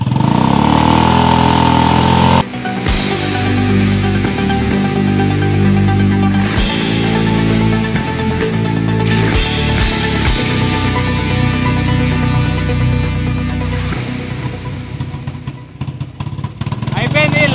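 A motorcycle engine idles steadily and loudly up close as it burns off the last petrol in its carburetor, with someone talking over the constant mechanical drone.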